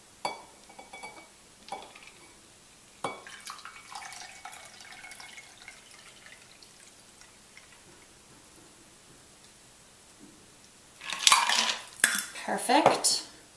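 Sparse clinks and knocks of glassware come first, then a burst of liquid and ice rattling as a cocktail is poured from a shaker, close by, with no voices.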